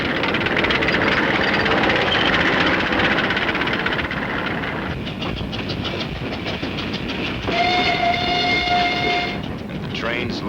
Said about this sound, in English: And the trains loaded with war wearies going back for salvage, loaded with supplies for the front.